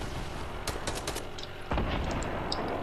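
Several sharp explosive shots fire in a squad battle royale video game, including a grenade launcher, with bursts of gunfire spaced across the moment and a heavier blast near the end, close and loud with no talk.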